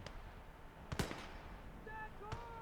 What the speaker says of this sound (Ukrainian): Ворожі гранати кидає.